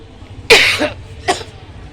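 Two coughs, the first a strong, sharp burst lasting about half a second and the second a shorter, lighter cough soon after, close to the mic in a quiet indoor setting.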